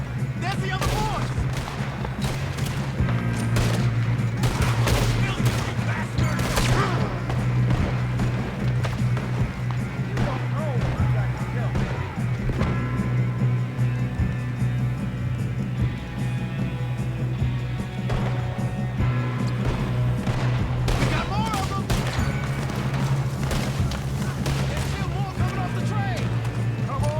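Gunfire in a Red Dead Redemption 2 shootout: repeated sharp shots and volleys crack out over a low steady hum, near and loud, with voices talking between the bursts.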